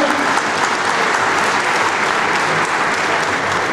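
Steady, dense audience applause at a public appearance, loud and close, continuing evenly without a break and with no voices over it.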